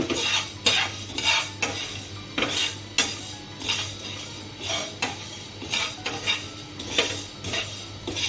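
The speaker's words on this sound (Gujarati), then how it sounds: "અને આ રીતે હલાવતા રહેવાનું છે." A spoon keeps stirring fenugreek seeds as they dry-roast in a pan over a slow-to-medium flame, giving close, rhythmic scrapes and clinks roughly once a second, with no talk.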